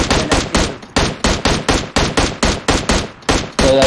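Rapid automatic gunfire in a mobile battle royale shooter rattles in about a dozen loud, evenly spaced bursts, each shot sharp and close with a quick decay, ending in a denser sustained volley.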